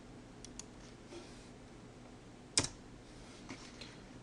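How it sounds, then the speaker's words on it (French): Quiet keystrokes on a computer keyboard during spreadsheet work, a handful of sparse, separate clicks with one sharper tap in the middle, set against a soft room hush. "que je tape sur le clavier"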